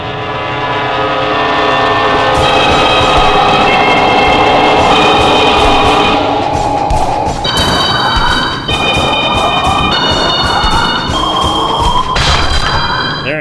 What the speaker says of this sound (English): I know another train's going to attack me